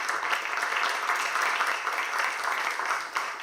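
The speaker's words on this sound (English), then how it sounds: "So please clap your hands for Farouk." An audience at a brand summit panel applauds as a moderator is welcomed, a steady wash of mixed clapping that holds at an even level for a few seconds with no clear break.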